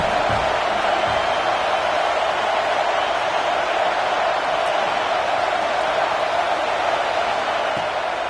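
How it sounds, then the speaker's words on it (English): A home stadium crowd roars continuously throughout a college football video game, Georgia at Alabama, a dense, steady wash of cheering with no breaks. "how nice is it to have the home crowd going absolutely bananas?"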